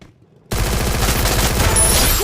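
Sustained rapid AK-47 automatic fire in the video game Free Fire, bursting in loud and close after a brief quiet moment and rattling on continuously.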